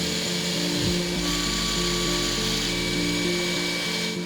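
A power tool grinds bevels onto metal washers for a sword guard, giving a steady, loud, high whine with a slight drop in pitch near the start and no pauses or speech.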